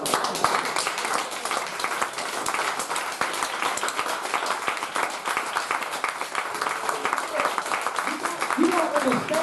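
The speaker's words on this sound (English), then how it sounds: "I would like you to applaud that." Audience applause at a public talk, sustained crisp clapping throughout, loud and close, with a voice coming in near the end.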